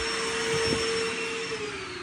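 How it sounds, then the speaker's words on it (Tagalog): A vacuum cleaner runs in a hotel room at a hot-spring inn, giving a steady, fairly faint whine and hum that continues without a break, with no talking. "May nagbabacuum lang eh."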